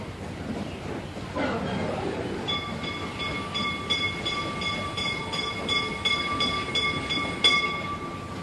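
A 600 mm narrow-gauge steam field railway train running at Easter, a steady rumbling roll with rhythmic clatter and a sustained whistle-like tone entering partway through, heard from nearby without speech.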